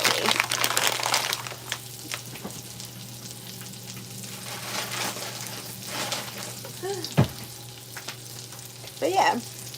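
Breakfast sausages fry in a pan with a continuous close sizzle and crackle, a few louder spits and stirring scrapes, and a low steady hum beneath.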